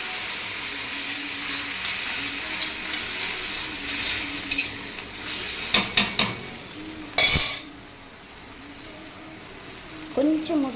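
Boiled amaranth stalks drop into a tempering of spices and asafoetida in hot oil, setting off a steady sizzle with scraping stirs and utensil clatter, and a voice talks over the cooking.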